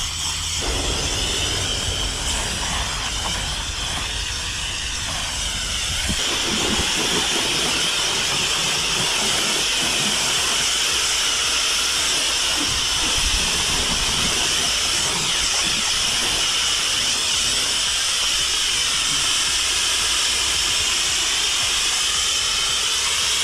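Water from a hose rinsing and flushing a personal watercraft: a loud, continuous broadband rush and hiss of spraying water that holds steady throughout with no voices.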